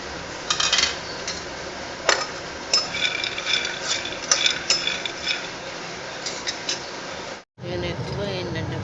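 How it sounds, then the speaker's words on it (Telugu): Green chillies and peanuts dry-fry in a pan without oil while a utensil taps and scrapes the metal again and again. The clicks come in irregular bursts over a low background hum. "ఆయిల్ పోయకుండా పచ్చిమిరకాయలు వేసి ఇలా ఫ్రై చేస్తున్నాను"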